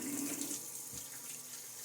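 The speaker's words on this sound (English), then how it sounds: "Water now to splash." Water splashes and runs during a wet shave with a Fatip Piccolo razor, a steady close hiss of pouring and splashing with one soft thump midway, no voices.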